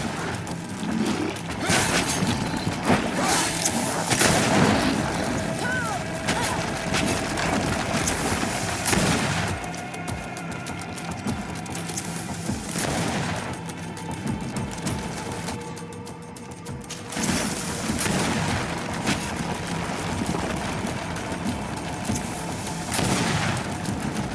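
Continuous gunfire and blasts rattle through a GreedFall fight, where a grenade is thrown: dense rapid bursts and repeated cracks fill the whole stretch at a steady loud level with brief lulls.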